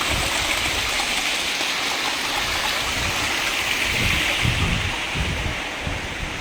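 Floodwater from heavy rains in São Vicente, Cape Verde rushes hard against a wall, a loud, constant roar of churning water with gritty low surges and no voices over it.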